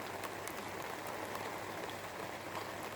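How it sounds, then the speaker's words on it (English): Steady rain falls in a back garden, a dense even patter of drops with occasional louder splashes, continuous and fairly close throughout. "the heavens have opened up and the rain is descending"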